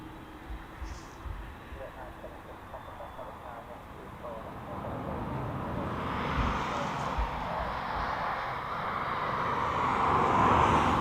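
A Kalitta Air Boeing 777 in health logistics livery at East Midlands Airport, heard as a distant jet rumble that swells and grows louder over several seconds.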